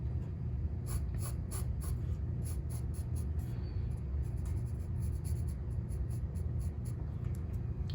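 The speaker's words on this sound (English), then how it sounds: "use the side of your pencil a little bit so that way it's not as harsh on your paper" A pencil sketches on paper, with the side of the lead used for softer strokes, giving repeated quick scratchy strokes in a steady rhythm over a low room rumble, close and with no talking.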